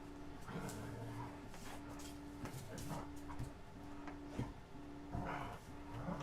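Rowdy dogs whimpering, yipping and panting indoors late at night, faint and scattered under a steady electrical hum, with short sharp bursts recurring.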